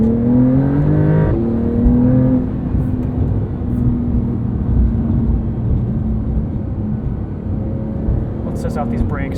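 A 2022 Porsche 911 Carrera with PDK gearbox revs hard toward its 7,500 RPM redline, engine tone climbing through rising pitch sweeps and then holding a loud steady drone, recorded from inside with a voice talking over it.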